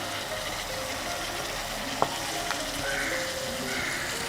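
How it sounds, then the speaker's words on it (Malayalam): Crushed ginger, crushed garlic and chopped green chillies fry in a pan for chicken macaroni, giving a steady close sizzle with one sharp clink about halfway through. "ഇനി ഇതിലേക്ക് ചേർത്ത് കൊടുക്കുന്നത് 1 സ്പൂൺ ഇഞ്ചി ചതച്ചതാണ്. അതുപോലെ 1 സ്പൂൺ വെളുത്തുള്ളി ചതച്ചത്, 3 പച്ചമുളക് ചോപ്പ് ചെയ്തത്,"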